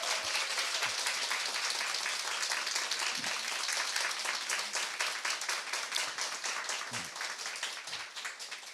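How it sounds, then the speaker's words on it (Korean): A church congregation at Sunday worship gives a big round of applause, the dense clapping loud and continuous at first, then thinning slightly toward the end, with no talk over it. "박수라도 한번 크게 쳐드리는 거니까."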